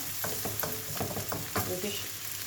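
Sliced peppers and Roscoff onion sizzle softly in a pan for a ratatouille-style vegetable mix, with a steady quiet frying hiss and a few clicks of stirring.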